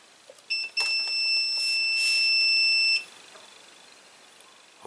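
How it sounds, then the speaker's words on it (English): Steady electronic tone from a multimeter in continuity mode, confirming a good fuse in a Grundig Sonoclock 800 clock radio under repair; a single sustained beep lasts about two and a half seconds, clear and close, with no talking. "if the fuse is good, we should hear my multimeter beep"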